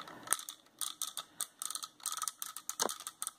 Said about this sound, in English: Beautiful, beautiful, beautiful solid ratchet joint.